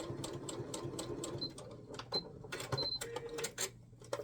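A sewing machine runs a quarter-inch seam joining scrap fabric strips, a fast close rattling stitch chatter with brief pauses and restarts, fairly loud.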